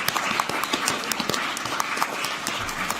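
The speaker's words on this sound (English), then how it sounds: "can we all clap again, though, for all our wonderful speakers and their presentations?" Audience applause closing a health policy talks session, dense steady clapping filling the whole stretch at moderate volume with individual claps standing out.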